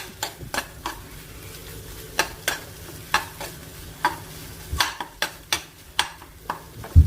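Eggs frying in a pan stirred with a spatula, a steady run of close, sharp scraping strokes in irregular rhythm over a low sizzle, with no voices.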